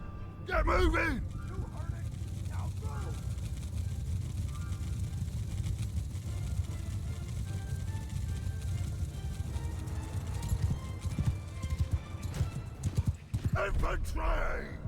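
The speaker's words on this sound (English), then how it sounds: "Horses!" Horses gallop in the medieval battle game Mount & Blade II: Bannerlord, a continuous thudding clip-clop of many hooves with an occasional whinny, while voices shout orders over the charge.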